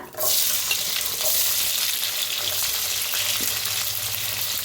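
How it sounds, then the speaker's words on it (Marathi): Cumin, mustard seeds, peanuts and onion hit hot oil and burst into a loud, steady sizzle that continues evenly throughout, with faint stirring and clinks of utensils and no talking. "तेल चांगलं गरम झालेलं आहे त्याच्यात टाकूया अर्धा चमचा जिरा अर्धा चमचा मोहरी शेंगदाणा टाकूया कांदा"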